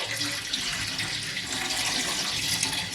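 Water streams and drips steadily as dyed wool is lifted out of a brown black-bean dye bath, a continuous close splashing trickle with no pauses.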